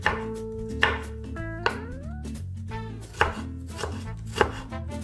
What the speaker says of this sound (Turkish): Soğanları doğramak.